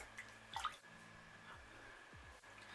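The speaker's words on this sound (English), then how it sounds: "I just have a bowl of water right here. What I like to do is just wash my face after this." Water splashes and drips from a bowl as a face is washed by hand, soft close splashes and trickles in a quiet room.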